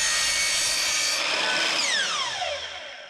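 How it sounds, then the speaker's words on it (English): A cutoff saw fitted with a carbide blade slices through a metal snow guard with a loud, high whining grind, then the blade spins down and the pitch falls away. "a carbide blade on a cutoff saw like this will do a real nice job"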